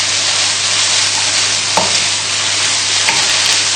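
Vegetables with grated ginger and chopped garlic stirred in a hot pan for a chilli chicken stir fry, a steady loud sizzle with a couple of soft utensil scrapes.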